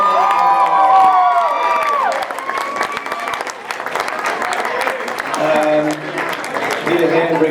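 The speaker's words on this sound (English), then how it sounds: "one more round of applause for Louis" Guests at a wedding party give Louis a round of applause after a Rubik's cube show, with loud clapping mixed with cheers and whoops, and music or voices sounding underneath.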